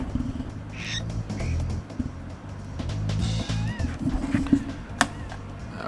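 Squawks the parrot from the Donkey Kong 64 video game chatters in short, shrill squawks and bird-like calls over a busy game soundtrack, with a sharp click near the end.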